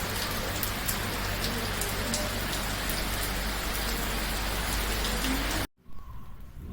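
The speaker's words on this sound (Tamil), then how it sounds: "ஏற்காட்டில் மழை." Steady heavy rain falling in Yercaud, a dense continuous hiss with pattering drops on surfaces, close and loud, cutting off abruptly near the end.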